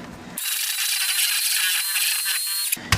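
An electric hand mixer beats cream cheese and confectioners sugar in a bowl for a no-bake Oreo cheesecake filling, a steady close whirring motor hum running for about two seconds and then cutting off.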